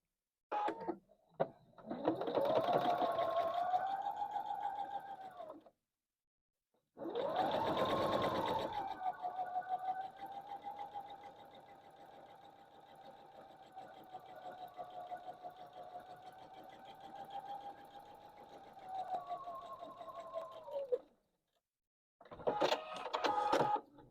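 A sewing machine runs in long steady bursts while stitching a quilt block, with a pause between two runs of several seconds each and a short final burst at the end; no talking.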